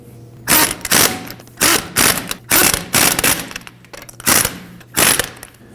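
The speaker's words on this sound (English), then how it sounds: "We'll go ahead and snug those down in a crisscross pattern with a 21 millimeter." Ratchet wrench snugging 21 mm bolts on a 2009-2014 Ford F-150 front suspension during a lower ball joint job, a series of loud rapid clicking bursts in steady rhythm, close up.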